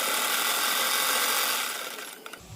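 An electric sewing machine stitching a blouse, a fast continuous mechanical whirring close by that slows and fades out near the end.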